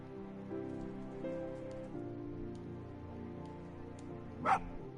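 A fox in the video game Spirit of the North gives a single short, sharp bark late in the moment, standing out over a steady bed of ambient game music and rain-like background noise.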